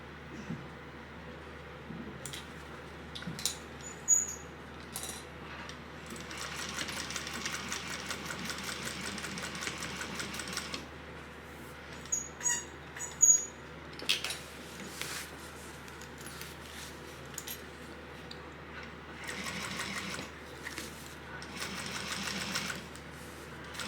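A sewing machine top stitches a seam an eighth of an inch from the edge, running in long steady bursts with short pauses and a few sharp clicks between, close and moderately quiet.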